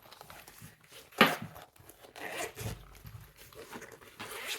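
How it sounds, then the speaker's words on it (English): A zipper is pulled on the case of a mini art and painting kit, with one sharp zip pull standing out among quieter rustling and handling noises close to the mic. "there's a little zip around to extend it"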